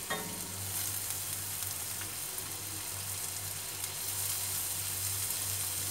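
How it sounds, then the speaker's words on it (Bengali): Onions frying in about a teaspoon of hot mustard oil give a steady, fairly close hissing sizzle that runs unbroken throughout, with a low hum underneath and no voices. "আর আমি আমার পেঁয়াজগুলো দিয়ে দিচ্ছি"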